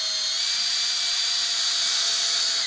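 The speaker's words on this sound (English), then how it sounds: "drive these screws in beforehand." A power drill runs steadily, driving gold deck screws, a high, even whine held for a few seconds before it cuts off abruptly at the end.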